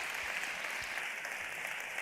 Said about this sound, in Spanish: Fuerte aplauso para Ágata Ruiz de la Prada